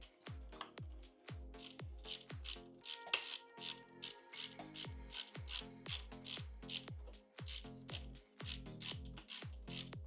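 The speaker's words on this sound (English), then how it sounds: "we'll remove the Torx 40 from the brake lever." A Torx 40 bolt is being removed from the brake lever of a BMW R1300 GS motorcycle, with a continuous run of quiet ratchet clicks in a steady rhythm alongside light metallic rubbing, faint and close.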